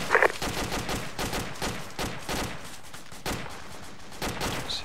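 Sustained bursts of gunfire in ARMA 2, rapid automatic fire and scattered shots crackling steadily through the whole stretch, loud and close with no talking.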